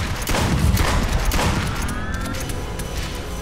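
Continuous rapid gunfire from an upgraded gun in the VR game Duck Season, loud and dense, with bursts running together as a steady barrage through the whole stretch.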